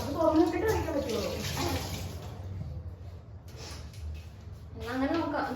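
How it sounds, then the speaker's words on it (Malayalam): Cold water pours in a steady splashing rush while cooking a coconut curry on a homemade setup, swelling and easing over a few seconds as people talk over it. "ഞാൻ അല്ലെങ്കിൽ പച്ചവെള്ളം മിക്സ് ചെയ്തിട്ട് ഒഴിക്കേണ്ടി വരും."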